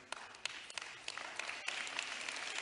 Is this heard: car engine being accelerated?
no